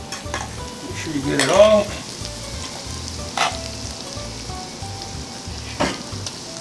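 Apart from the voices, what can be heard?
egg mixture stirred into hot bucatini pasta in a pan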